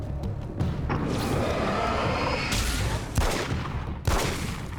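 Dense bursts of video game gunfire from Alan Wake's American Nightmare, rapid volleys of loud, close shots with sharp thuds, continuing almost without pause and with sudden heavy blasts near the end.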